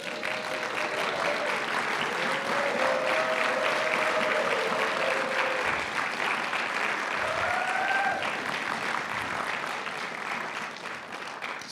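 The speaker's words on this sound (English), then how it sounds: "Give them a big round of applause." Synagogue congregation at a Kabbalat Shabbat service applauding the children, a steady, sustained round of clapping from a roomful of people with a few faint voices underneath.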